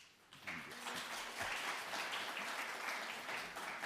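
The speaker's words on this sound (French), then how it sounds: "à prolonger vos applaudissements pour accueillir Éric Baratet ce soir" An audience clapping to welcome a lecturer at a University of Geneva event, the applause starting abruptly and holding steady as a dense, fairly distant patter of many hands.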